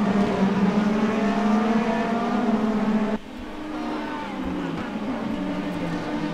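Cars in a sim racing video game roar along as they jostle to overtake, a loud sustained engine drone that drops abruptly partway through, then settles into a quieter, slightly shifting engine hum.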